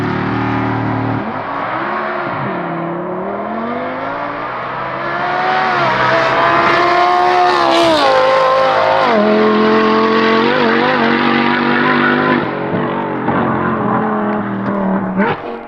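A Lamborghini fitted with an F1-style exhaust revs hard up toward redline, engine pitch sweeping up and down in long loud pulls with a raspy, echoing exhaust note, close by and without speech.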